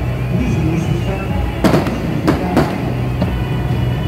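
Fireworks show at a temple birthday celebration in Taiwan, with several sharp bursts and crackles popping over a steady outdoor crowd hum, moderately close.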